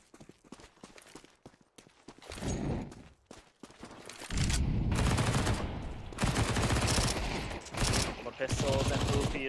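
Rapid MP9 submachine gun bursts in a competitive Counter-Strike match, with dense crackling volleys rising loud from the middle of the stretch onward, earlier shots sparser amid background game noise.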